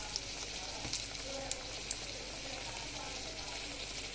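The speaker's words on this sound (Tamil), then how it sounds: "அதுக்கப்புறம் கொதிச்சு இருக்கிற கடாயில் நம்ம வடையை போட்டுடலாம்." Masala vadai (parupu vadai) fry in hot oil in a kadai, giving a steady, soft sizzle and bubbling with a few small pops and crackles, close and alone.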